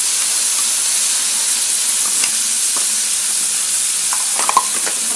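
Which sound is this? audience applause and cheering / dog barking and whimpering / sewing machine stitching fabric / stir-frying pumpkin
stir-frying pumpkin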